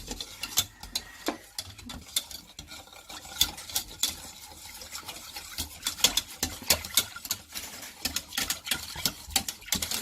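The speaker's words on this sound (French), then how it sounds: "on va continuer à mélanger dans le feu" Cake mixture being stirred in a pan over a gas flame, heard as continuous close scraping and rhythmic knocking of a utensil against the pan, with no voices.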